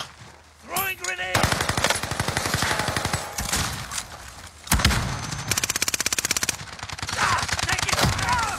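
Sustained automatic gunfire in a military shooter game, long rapid bursts of machine gun fire broken by a brief pause, loud and close, with a short in-game voice callout near the start.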